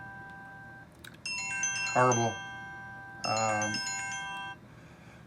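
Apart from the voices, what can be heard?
phone ringing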